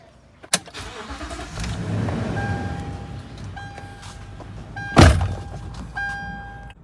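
A car engine cranks and starts after an oxygen sensor replacement, then settles into a steady idle, with a sharp thunk early on and a loud clunk partway through.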